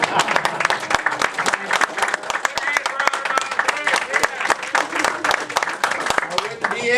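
A magic show audience at the Magic Castle claps hands together in a dense, steady burst of sharp, close applause lasting several seconds.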